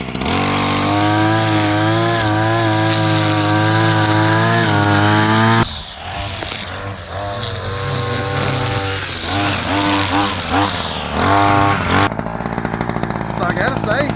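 A PROYAMA 25.4cc gas weed eater with an easy spool trimmer head runs loud and close, holding a buzzing high-rev whine before dropping back and revving again in uneven bursts.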